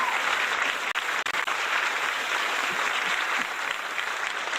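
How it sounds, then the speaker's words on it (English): Dense, steady applause from a large crowd, a continuous wash of many hands clapping at full loudness with almost no break and no voices over it. "An obnoxious amount of applause."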